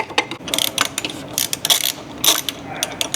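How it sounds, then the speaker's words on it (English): An Allen wrench threads the driveshaft carrier bolts on a 2008+ Subaru WRX/STI or BRZ/FRS/GR86, giving close, quick metallic ratcheting clicks and scrapes in short uneven bursts. "you should be able to get an Allen wrench up into there and start threading those into the front half"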